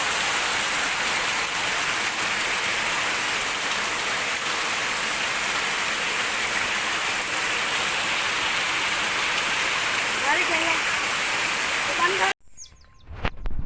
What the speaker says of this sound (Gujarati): અત્યારે વરસાદ જ એટલો બધો પડ્યો કે હવે કંઈ થાય નહીં